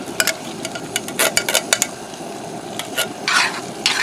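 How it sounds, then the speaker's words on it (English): Cream of mushroom soup is spooned into a very hot skillet and stirred, with a spoon clattering and scraping in quick, uneven bursts over a steady close sizzle. "Just spoon that in there, stir it around,"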